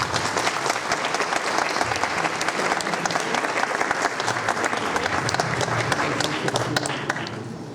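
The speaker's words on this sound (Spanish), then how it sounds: "para quien pido un fuerte aplauso." Sustained, dense applause from an audience welcoming an engineer at an academic colloquium, a steady roar of many hands clapping that holds for several seconds and then begins to thin out at the end.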